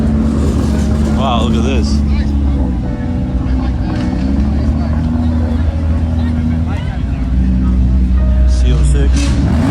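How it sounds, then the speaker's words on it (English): A Lamborghini Aventador Roadster supercar idles and rumbles loudly at a Gumball 3000 supercar gathering, with engine noise throughout, crowd chatter and a person speaking over it. "Another Aventador Roadster."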